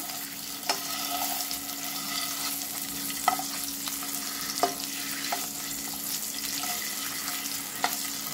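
Boiled eggs frying in oil produce a steady close sizzle with scattered sharp pops and light clinks from stirring at irregular intervals, and no voices are heard.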